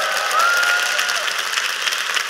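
A live audience applauds a Korean farmer's stage talk about lettuce, steady dense clapping filling the room at even loudness, with a faint whistle-like tone rising briefly near the start.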